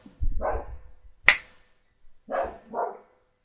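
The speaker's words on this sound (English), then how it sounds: "It's probably going to bark for a while." A dog at a campsite at Reading Festival barks a few times in quick, separate bursts with short pauses, fairly close, plus one sharp snap-like click between barks.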